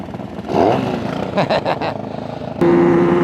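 A Griffin Custom TA125 two-stroke street bike engine catches and starts, its loud buzzing note rising and wavering close by before settling into a steady, higher idle.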